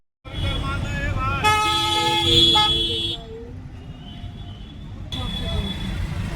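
Road traffic in India with a loud car horn honking steadily for a couple of seconds, then a shorter honk later, over a constant rumble of engines and street noise.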